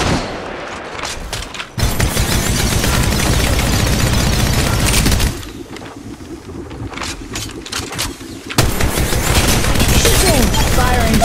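Rapid gunfire from the mobile shooter game Apex Legends Mobile, loud sustained bursts with a short gap, a quieter stretch midway, then heavy firing resumes, with some voice mixed in.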